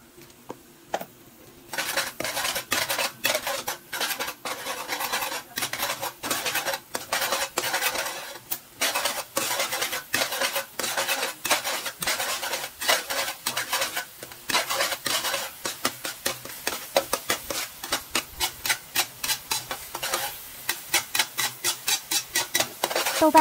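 A metal spatula scrapes and tosses chili bean paste in a wok for a spicy braised pork knuckle, making a steady run of rapid, close clinks and scrapes that keeps a brisk rhythm throughout with no talk.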